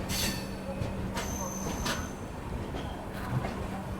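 A passenger train, the Karnataka Sampark Kranti, pulls into a Delhi station with a low rolling rumble, bright bursts of wheel squeal and light clatter from the cars.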